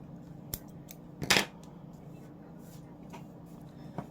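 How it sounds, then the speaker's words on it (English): Small scissors make one short, crisp snip on yarn tails while finishing a granny stitch crochet sweater, a single close burst standing out over a quiet room hum. "That's why you want to use some little scissors like this."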